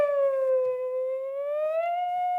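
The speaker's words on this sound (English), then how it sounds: "That button is just a siren now." A single wailing siren rises and falls slowly in pitch as a steady, fairly faint howling tone with clear harmonics. It continues throughout, with a few soft background noises.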